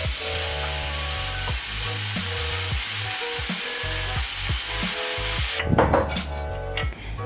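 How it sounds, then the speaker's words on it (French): Marinated beef cooks in a lightly oiled frying pan, with a steady, moderately loud sizzle and hiss holding throughout, broken by repeated scraping and clattering of a utensil against the pan, and a brief sharper burst near the end. "Et laisser cuire du bœuf mariné qu'on a déjà préparé."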